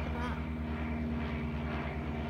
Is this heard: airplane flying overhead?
yes